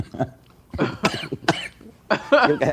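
Several harsh coughs and throat-clearing bursts from a movie excerpt, coming in irregular loud clusters with short pauses between them.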